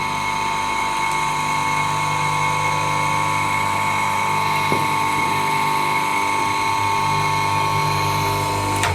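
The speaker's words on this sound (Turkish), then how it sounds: "Motor şimdi daha düzgün çalıştı." Three-phase induction motor running smoothly on single-phase power through a capacitor, giving a loud, steady electrical hum and whine with constant tones throughout.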